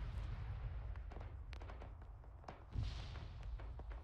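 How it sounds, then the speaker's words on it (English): Mortar explosions in Arma 3, low booming thuds and rumbles heard at a distance, quiet and muffled, several scattered impacts with one stronger blast near the end. "That's getting mortared."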